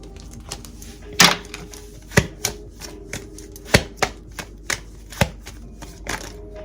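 A deck of tarot cards being shuffled, giving a string of sharp, close riffles and snaps at an irregular pace with quieter rustling between them, and no one talking.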